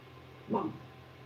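A single short dog bark at a delivery driver, fairly close, over a quiet background hum.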